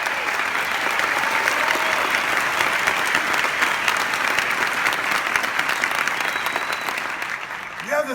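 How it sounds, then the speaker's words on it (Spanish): A large arena crowd at a homecoming event in Madison Square Garden applauds the organization's leadership, a loud, dense, sustained roar of clapping that holds steady for several seconds before tapering slightly at the end. "Give your leadership of this organization a tremendous round of applause."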